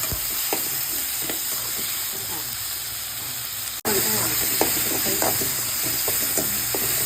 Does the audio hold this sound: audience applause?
no